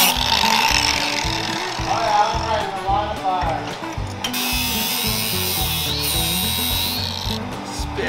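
A power tool cuts off a hydraulic fitting from a power steering hose on a demolition derby car, grinding and rasping loudly up close, shifting pitch as it bites, while someone talks over it.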